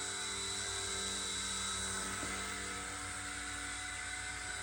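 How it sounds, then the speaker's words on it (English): A Rage RC Volitar X radio-controlled helicopter hovers in place, its rotor whine steady and close with a constant high buzz throughout, no voices present. "it automatically goes up 4 feet and just hovers."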